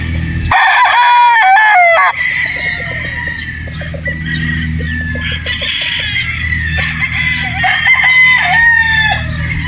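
Boston Roundhead brood stag rooster crowing loudly nearby, a full crow at the start followed by more crows and clucking from several birds against a constant low hum.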